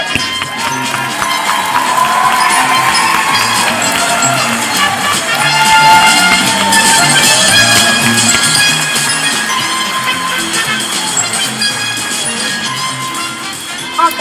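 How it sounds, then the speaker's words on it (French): An audience at a secondary school awards gala applauds and cheers for honourees in a dense, steady wash of clapping and crowd noise that lasts throughout, with a slight swell midway. "On peut les applaudir."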